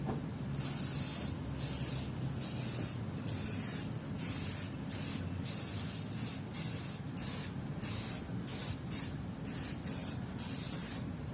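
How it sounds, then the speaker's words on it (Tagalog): Koby sticker remover is sprayed onto a Yamaha NMAX motorcycle in a long series of hissing aerosol bursts with brief gaps between them, close and steady, with no one talking. "Sprayan uli natin ang Kobe sticker remover."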